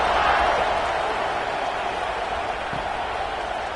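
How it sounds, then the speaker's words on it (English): A football stadium crowd at a night game sends up a steady, broad roar of cheering that fills the whole stretch and eases slightly toward the end. "Night games are always so loud, so obnoxious, and these fans, they get something to cheer about with that first offensive possession"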